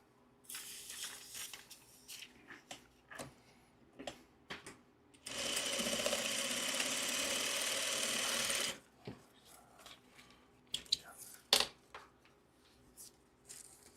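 A sewing machine runs in one steady, loud burst of stitching for about three seconds in the middle, with quieter handling clicks and rustles before and after.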